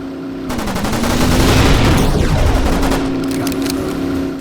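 Destroyer guns in the Killer Bean video game fire a loud, close burst of rapid shots, a dense rattling barrage that swells over a few seconds, layered with a low mechanical hum.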